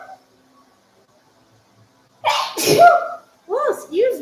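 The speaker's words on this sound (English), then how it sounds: "about to sneeze" A fitness instructor sneezes once, loudly and close, in the middle of a live workout stretch, followed by a short bit of talking.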